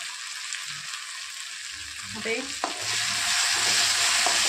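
Spices with turmeric and asafoetida dropped into hot oil in a pan, a steady hiss of sizzling that swells louder toward the end, with a few scraping stirs in the middle.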